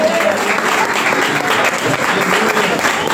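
A church congregation claps during a pastor's installation service, a dense steady applause with a voice faintly audible underneath.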